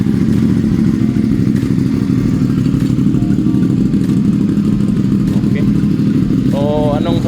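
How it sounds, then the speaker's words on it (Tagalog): A 450SR motorcycle on a cold start idles loudly through a full exhaust with the resonator removed, a deep, throbbing, uneven burble that stays close and constant, with a brief voice near the end. "naka full exhaust na po yan wala na po yung resonator at ito po yung sound sound check 1, 2, 3"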